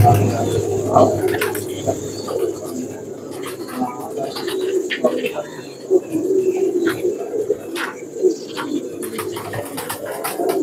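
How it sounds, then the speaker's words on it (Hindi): A red phanair pigeon gives steady low cooing close by, over a backdrop of chirping birds and scattered clicks and knocks, with a voice talking intermittently. "ये लाल फनियर कबूतर है दोस्तों।"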